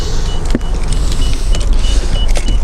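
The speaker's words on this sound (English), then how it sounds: "You can also operate the power door off this button here. Press that, there you'll see that." Power sliding door on a 2004 Toyota Alphard 2.4L AX Tresor, triggered by a button, running with a steady motor whir under a few faint clicks and clunks for nearly three seconds, close and fairly loud.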